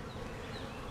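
Honeybees buzz densely around an open hive, a close, continuous hum with faint passing whines of single bees.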